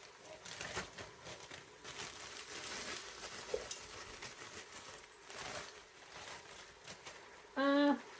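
Onions and chopped green peppers, once frozen, stirred in a hot pot, with a soft steady sizzle and faint scraping under the cooking, and a short clear tone near the end.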